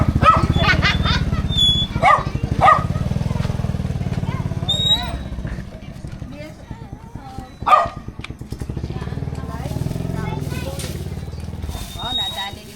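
A dog barks in sharp, repeated bursts at a birthday gathering, close and loud, interleaved with excited voices talking over the barking and a motorcycle-like engine rumble underneath.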